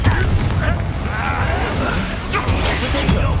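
Confringo fire spell in the game Hogwarts Legacy, a loud, dense blast with rumbling booms and crackling debris filling the whole moment.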